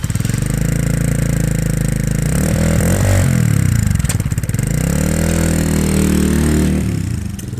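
A Herald Brat 125 motorcycle with a GP style exhaust runs close by, its small single engine holding a steady loud drone that rises and falls through gentle revs with no talk over it.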